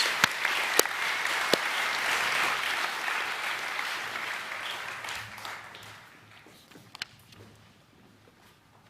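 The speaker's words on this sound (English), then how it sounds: "can we please give our Year 11 boys one more round of applause?" An audience applauds at a school academic awards evening. The clapping is loud and sustained at first with a few sharp individual claps, then gradually thins and fades toward the end.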